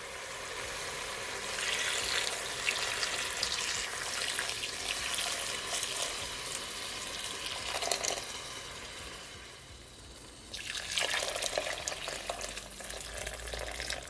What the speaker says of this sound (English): I'm gonna add at least 10 cups of hot water to it